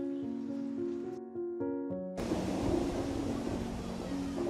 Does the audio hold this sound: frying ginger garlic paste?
no